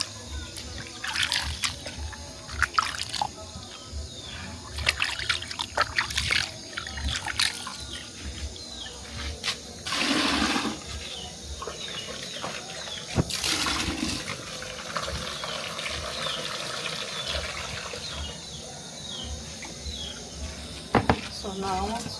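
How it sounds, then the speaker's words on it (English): Water runs and splashes while plantain is washed, a steady trickle with intermittent bursts of pouring, and a person talks over it. "I want to wash the plantain."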